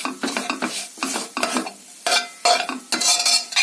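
Fried eggs being broken into small pieces in a wok, with a run of quick scraping, stirring clatters of a utensil against the pan over a faint sizzle, arriving in short bursts.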